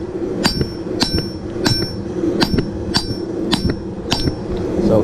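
A steel damascus canister is struck repeatedly, giving seven evenly spaced bright metallic rings that decay quickly over a low background hum.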